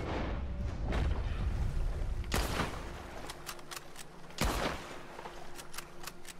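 Gunshots in the video game Red Dead Redemption 2, a few sharp loud blasts spaced seconds apart followed by quicker cracks, over a rumbling game background.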